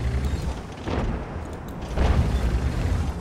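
Two tank cannon shots in a World of Tanks style battle, each a loud booming blast with rumbling decay, the second following about a second after the first.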